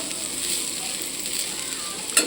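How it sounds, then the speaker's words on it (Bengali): Potato pieces fry in hot oil in a pan, giving a steady close sizzle with a faint stirring scrape near the end and no one talking. "আলু ভাজা হচ্ছে এখানে"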